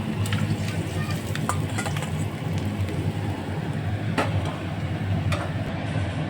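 Fresh rohu fish sizzles steadily in hot oil, a constant hiss with faint crackles and an occasional light clink of a utensil.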